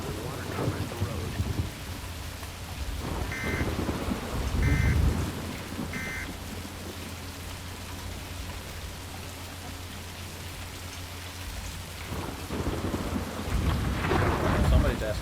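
A thunderstorm in a storm-chasing video game, with steady rain hissing throughout and low thunder rumbles swelling near the start and again toward the end, plus a few faint electronic chirps.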